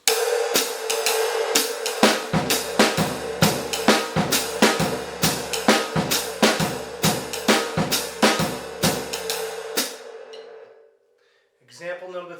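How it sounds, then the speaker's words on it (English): A jazz drum kit plays steady eighth notes on the snare over quarter-note bass drum in a syncopation exercise, crisp and close for about ten seconds before stopping, with a short faint sound after. "Snare drum reads the eighth notes, bass drum reads the quarter notes."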